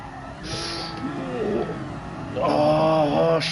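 A car engine revs in the GT Sport racing game during a drift challenge on the Nordschleife, rising and falling in pitch, with a louder, strained surge toward the end.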